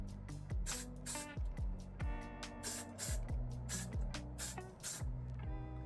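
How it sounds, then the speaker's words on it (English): Aerosol hairspray misted onto a man's thick hair, a rapid series of short hissing spritzes in an irregular rhythm, close and fairly quiet with no talking. "Spray a little bit on the side."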